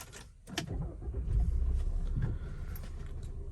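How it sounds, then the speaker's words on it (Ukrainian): A 2014 Audi Q5 engine turns over and catches, settling into a low steady rumble close by, with a few small clicks at the start. "Заведемо автомобіль."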